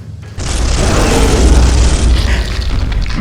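A Genestealer is gunned down in the Space Hulk game with a loud, heavy booming blast of gunfire that roars without a break for about three seconds, close and forceful.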